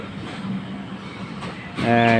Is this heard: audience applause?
no